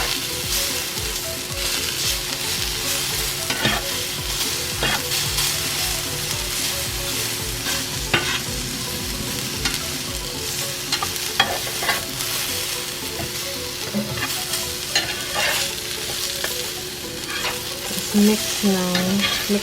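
Potatoes and onions fry in a pan with a constant close sizzle while a utensil stirs them, making repeated scraping and clattering strokes throughout. No one speaks.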